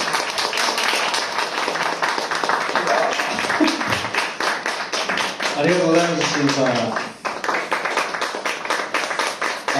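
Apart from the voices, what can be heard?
audience applause after a live performance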